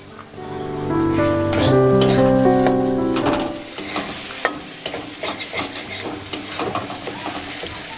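Chopped tomato going into a crab curry masala in a pan, with loud frying sizzle and stirring that settles into quieter crackling and scraping; a musical jingle plays over the first few seconds.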